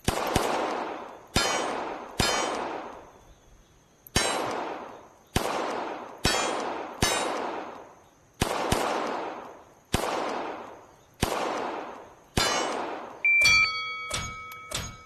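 Sharp impacts from an ACE XR shooting game, paper and steel targets struck in a string of about a dozen loud, separate hits, each with a short decaying tail, spaced unevenly and closing with a faster burst, no talk.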